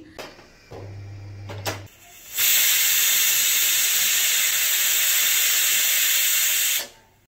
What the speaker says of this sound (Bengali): এখানে আমি ডালটা কুকারে সেদ্ধ করে নিচ্ছি